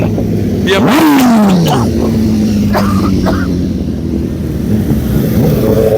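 A Yamaha R1 sport motorcycle passes among a group of bikers on a street, its engine rising and falling in pitch as it sweeps by loud and close, over a continuous background of other engines.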